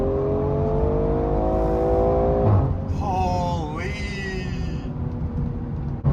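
Tuned BMW E30 accelerating hard from a stop with the rear wheels spinning, a close engine roar rising in pitch through the gears, with a voice speaking over it.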